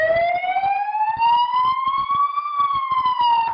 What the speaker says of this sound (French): on avait mis en place ce système de sirène américaine